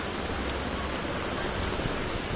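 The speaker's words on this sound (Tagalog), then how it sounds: "Humina na yung ulan." Heavy rain pours steadily during a storm with strong wind and flooding on a road, a loud, unbroken wash of noise with no speech.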